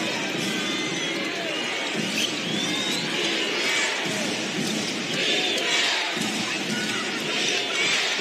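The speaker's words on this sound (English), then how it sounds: "The crowd become very vocal, too, in the background." A WNBA basketball arena crowd during a Mystics versus Fever game roars loudly and steadily, a dense wall of cheering and shouting that swells and holds throughout.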